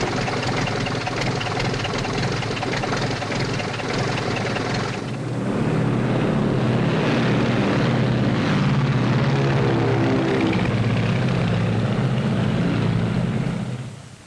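Propeller airplane engine from a 1939 aviation film, a loud continuous droning roar that swells and thickens midway as the plane revs up and flies, holding steady before fading at the end.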